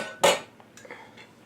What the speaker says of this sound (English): I'm going to push this pan back